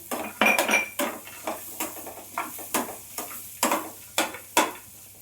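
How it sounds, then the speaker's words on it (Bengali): Grated beetroot and carrot stirred in a pan, with a rhythmic series of loud spatula scrapes and clinks against the metal about every half second over a faint sizzle, and no voices. "আবারও ভালো করে আমি বিট গাজরটা নাড়াচাড়া করে নেব"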